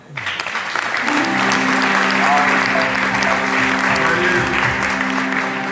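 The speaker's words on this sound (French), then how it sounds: "Il faut l'acclamer." An audience gives pastor Romuald a long round of loud applause, with some cheering. The clapping is dense and keeps an even level for several seconds.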